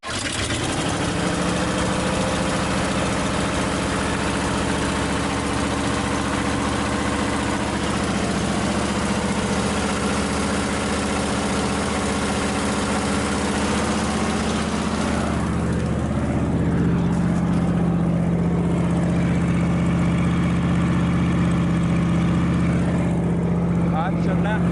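A 1959 Ford F-100 truck engine runs at a steady idle, a continuous low rumble with a constant hum that shifts slightly partway through; a voice talks briefly over it.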